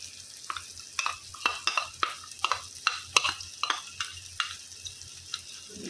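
Shahi paneer masala mix is stirred into hot oil in a pan: about a dozen quick, crisp spatula scrapes come in an irregular rhythm over a soft, low sizzle, close and fairly quiet.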